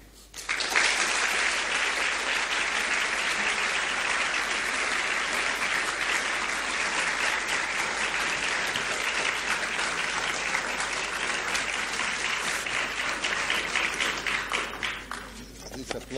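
Sustained, dense applause from a lecture audience fills the hall after a talk by physicist Paul Dirac on the discovery of the positron, steady and loud for about fifteen seconds before tapering off.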